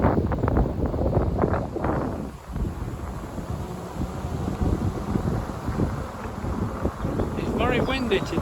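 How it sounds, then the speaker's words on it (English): Wind buffets the microphone on a windy day during an electric fatbike hill climb, a steady low roar and rumble running throughout, with a person talking over it in the first couple of seconds. "Very windy today"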